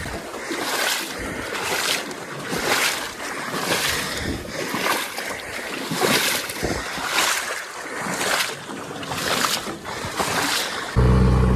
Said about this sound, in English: we've got a motor just sitting down there idling, and that's getting us enough thrust